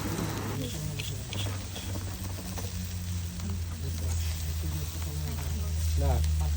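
Barbecue chicken sizzles on an outdoor grill at Wadi Namar, a steady crackling hiss with a low hum running underneath, while people talk faintly nearby.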